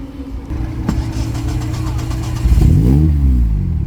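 A 1990s supercar engine idles with a steady low rumble, then revs sharply with a rising and falling roar before settling back, loud and close.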